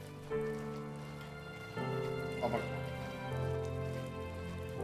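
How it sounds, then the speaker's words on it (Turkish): Rain falls as a soft, steady patter in The First Tree video game, beneath sustained musical tones and a person talking. "Güzel yağmur yağıyor falan filan."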